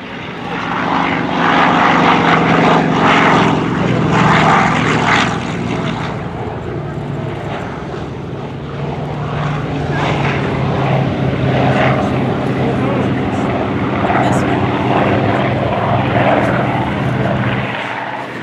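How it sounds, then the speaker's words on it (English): A WW2 F4U Corsair propeller fighter flies past at an air show demo, its loud radial engine drone swelling and holding as it passes, with a commentator talking over it. "Take a look at the airplane as he comes by this time."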